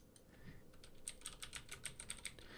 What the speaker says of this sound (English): Come on, let me type.